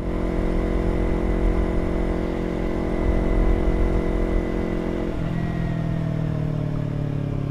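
A Yamaha R25 250cc faired sport motorcycle hums along at steady cruising revs, its engine drone loud and continuous, dipping to a lower pitch partway through, with no talking.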